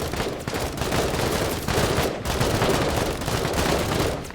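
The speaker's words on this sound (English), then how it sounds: "Let's just give you some sustained fire." Sustained gunfire from the video game Menace rattles in a dense, continuous rapid-fire stream with brief dips, loud and close throughout.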